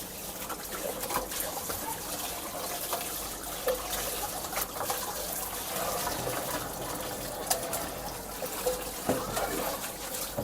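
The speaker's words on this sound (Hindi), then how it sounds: "अब हम गंदम के आटे से इसको धो रहे हैं" Goat tripe being washed by hand with wheat flour and water, a steady wet sloshing and dribbling with occasional louder splashes and squelches, close by and continuous.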